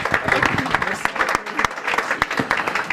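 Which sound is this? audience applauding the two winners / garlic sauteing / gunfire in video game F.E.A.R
audience applauding the two winners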